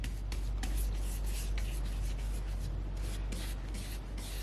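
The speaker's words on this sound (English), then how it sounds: "And so I'm just going to put a good coat on it." A brush spreads a coat of Mod Podge over a napkin on a board for a key holder, making quiet, repeated soft swishing strokes in close, even succession.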